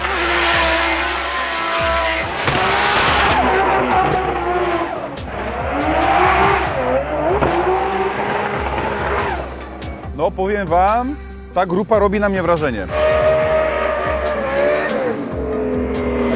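Loud drift car engines rev and tires squeal repeatedly as cars slide past at a Drift Masters event in Riga, with someone speaking over the roar.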